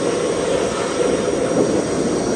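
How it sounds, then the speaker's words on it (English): A pressure washer jet blasting cobwebs and dirt off an old, rusty Titan petrol hedge trimmer gives a steady, loud, continuous hissing roar that holds without a break. "Just get it blasted with the jet wash, like the cobwebs and the dirt."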